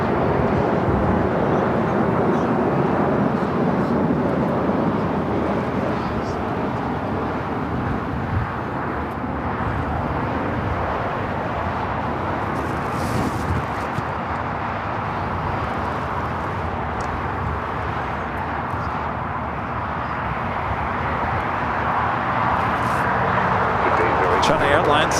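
An airliner's jet engines roar steadily at Los Angeles International Airport, with a China Airlines A350-900 bound for Taipei departing; the broad rumble stays loud and continuous throughout while someone talks over it.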